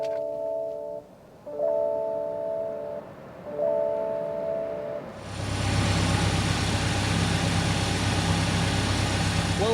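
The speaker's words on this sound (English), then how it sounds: "start it up so you can hear that exhaust note" A 2024 Lexus RX 500h F-Sport hybrid crossover starts up after a few chiming cabin tones, its engine settling into a steady, moderately loud running hum with a low exhaust note.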